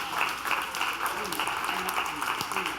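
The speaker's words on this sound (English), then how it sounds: "give God a hand clap of praise for that" A church congregation claps hands in praise during a sermon, a moderate, lively patter of many hands with voices talking over it throughout.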